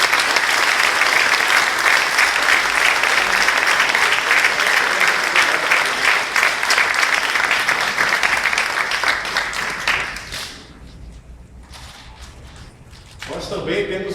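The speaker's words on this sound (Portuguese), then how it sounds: "Mais uma vez eu peço uma salva de palmas." Sustained, dense applause from a large crowd at a school teacher award ceremony, loud and steady for about ten seconds before thinning out, then briefly swelling again near the end.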